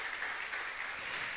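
A church congregation claps as an offering of palms during a morning service, a brief dense burst of hand claps at moderate distance.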